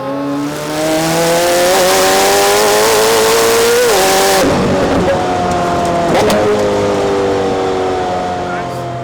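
A Gintani-tuned McLaren Senna on a test drive fills the cabin with a loud engine drone that rises through revs, dips at a gearshift and pulls again, with voices audible under the noise.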